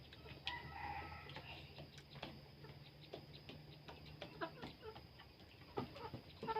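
A rooster crows at a distance, faint against a quiet rural background with scattered ticking and clucking, and no one talking.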